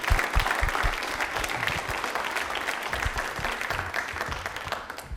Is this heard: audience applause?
yes